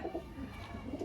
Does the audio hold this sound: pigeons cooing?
yes